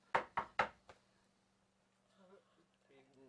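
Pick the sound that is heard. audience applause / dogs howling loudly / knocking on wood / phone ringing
knocking on wood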